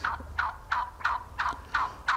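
A hand-operated turkey call imitates a hen's yelp, giving a series of about seven evenly spaced, sharp, nasal notes, close and fairly loud against a quiet background.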